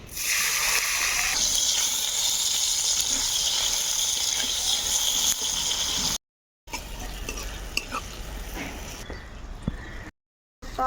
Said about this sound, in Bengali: তেলে টমেটোটাকে ভেজে নেব, টমেটো থেকে কাঁচা গন্ধটা বেরিয়ে যাবে।